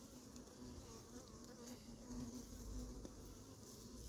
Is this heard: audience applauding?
no